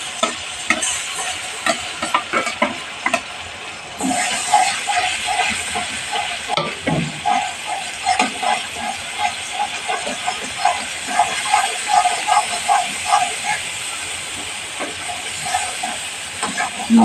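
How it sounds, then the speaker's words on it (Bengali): Chili and turmeric paste sautéing in hot oil in a pan while biryani is cooked, with a steady loud sizzle and repeated stirring scrapes throughout, and no talking. "লঙ্কা হলুদটা কষানো হয়ে গেল।"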